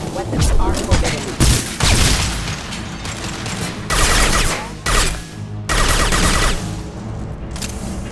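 Mechs shooting in Mass Effect 2, with loud bursts of gunfire arriving in several separate volleys with short gaps between them.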